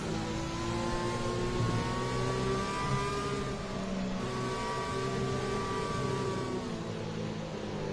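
An Aston Martin safety car in an F3 racing video game at the French GP gives a steady, loud engine drone that rises and falls as it revs, with no talk over it.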